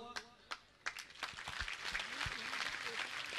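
A large crowd of devotees at a Jain religious gathering breaks into applause, a few sharp separate claps at first building into a steady wash of clapping, with a voice speaking under it.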